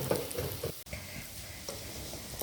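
Tapioca frying in a pan while being stirred, a close continuous sizzle broken by scraping stirs and light clicks, with one brief dropout partway through.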